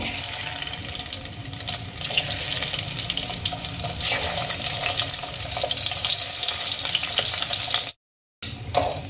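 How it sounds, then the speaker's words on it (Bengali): Continuous loud sizzling of eggs frying in hot oil, with a brief silent gap near the end before the hiss resumes. "একই ভাবে বাকি ডিমগুলো কিন্তু আমি ভেজে নেব।"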